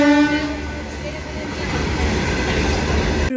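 A train at a railway station sounds a loud horn right at the start, then rumbles and clatters close by with a heavy, steady roar of rolling wagons.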